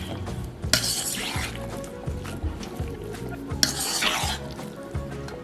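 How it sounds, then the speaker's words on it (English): A garlic pork marinade with about eight sprigs of thyme is stirred in a bowl, giving wet, squelching, sloshing sounds in repeated strokes, with a couple of sharper clinks from utensil against the bowl. "You put it all together and you mix it in."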